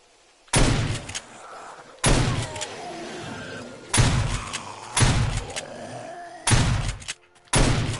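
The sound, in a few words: AK rifle gunfire in video game 7 Days to Die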